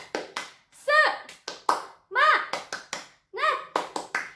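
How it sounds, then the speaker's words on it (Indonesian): Schoolchildren in a classroom perform a rhythmic spirit clap, bursts of sharp claps alternating with group chanting voices in a quick, repeating pattern, loud and close. "Oke, tepuk semangat."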